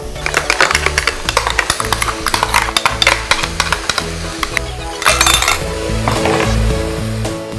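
Ground masala sautéing in a pan for a Dindigul biryani, with a steady low sizzle under repeated sharp metallic clinks and scrapes of a spoon against the pan, close and fairly loud, no talking.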